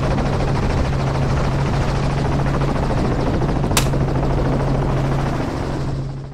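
A helicopter used for darting Cape buffalo gives a steady rotor drone that fills the whole stretch, loud and close, with a constant low hum throughout.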